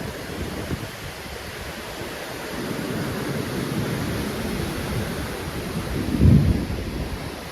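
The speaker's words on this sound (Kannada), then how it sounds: "ಈ ಥರ ಇಲ್ಲಿ ಕೂತು ಅಲೆಗಳ ಸದ್ದು ಕೇಳಿಸ್ಕೊತ ಕೂತೇವೆ ಅಂದ್ರೆ ಸ್ವರ್ಗ ನೋಡ್ದಂಗೆ ರೀ" Waves break continuously on Udupi beach, a broad, rushing wash of surf with wind and a louder surge toward the end.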